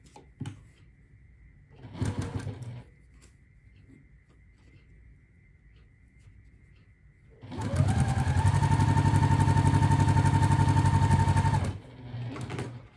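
Sewing machine chain piecing quilt blocks: a short burst of stitching, a quiet pause with a faint steady hum, then a long loud run of rapid even stitching and a brief final burst, no talking.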